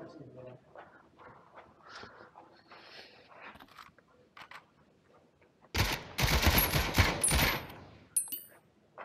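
Gunfire in the Spatial Ops game played by two people in an office erupts as a loud, dense burst of shots after quiet stretches of people talking, with a few scattered shots trailing off.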